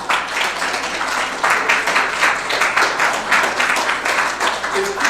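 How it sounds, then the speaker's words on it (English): A council meeting audience stands and applauds together, producing a dense, steady wash of clapping with rhythmic surges that continues throughout at close range. "Can I get everyone to stand and applaud Keivonn"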